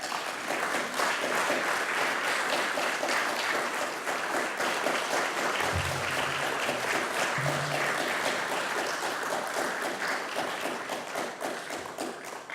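A lecture audience bursts into sustained, dense applause to welcome Professor Peter Roennfeldt, many hands clapping steadily for over ten seconds before slowly tapering off.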